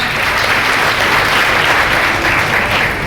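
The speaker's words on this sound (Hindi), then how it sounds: "जोरदार तालियां।" Loud, dense applause from a large audience honouring a government minister at a Jain community gathering in India, a steady unbroken roar of clapping filling the full three seconds with no speech over it.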